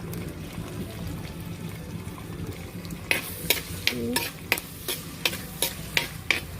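Ginger and garlic frying in a pan sizzle steadily, then a utensil stirs them, producing a series of sharp, regular scraping knocks over the constant hiss, heard up close with no speech.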